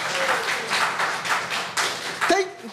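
An audience claps at the end of an open mic ladies comedy night, a moderate patter of clapping with voices mixed in, one sharp tap standing out near the end.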